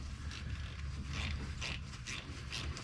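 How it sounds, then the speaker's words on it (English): A ratchet tightens bolts threaded into a Ram truck frame during a heavy-duty coil spring upgrade, giving a close, steady mechanical clicking with several rhythmic bursts of pawl chatter. "Because these bolts are threaded right into the frame, use a ratchet so you don't snap them off."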